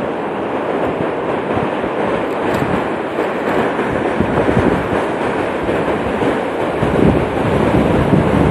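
Ocean surf rolling and breaking on an Atlantic beach in Middletown, Rhode Island, a steady broad wash of waves close by, with some wind rumble on the microphone and no talking.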